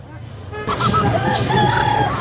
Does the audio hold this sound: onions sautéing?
no